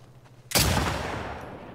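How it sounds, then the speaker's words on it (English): A single loud gunshot fired in The Last of Us Part II video game, an abrupt sharp crack followed by a long decaying echo tail. "Oh, nice shot."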